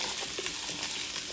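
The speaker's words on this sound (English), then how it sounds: "we're going to fry those up a little bit here" Spiralized sweet potatoes fry in a pan with a steady, dense sizzle and light crackle that holds even throughout, close and moderately loud, with no talking.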